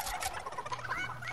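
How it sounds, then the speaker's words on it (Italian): Chicken in the Fortnite video game giving a short burst of clucking and gobbling calls, close and fairly clear. "Ma quello è un pollo nero."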